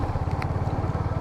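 A motorcycle engine throbs in a steady, fast, pulsing beat while riding a mountain road between Gangtok and Lachung, loud and close, with no talk.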